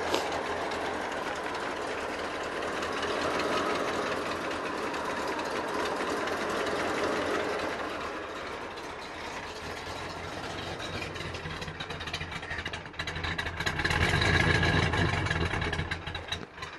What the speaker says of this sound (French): il tourne un petit peu trop faible, là. Il va falloir qu'on augmente un peu le ralenti.